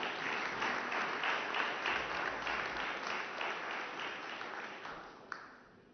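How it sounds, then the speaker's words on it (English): Sustained applause from a conference audience at a press conference, a dense wash of clapping that holds steady for several seconds before gradually thinning out. "A round of applause for that."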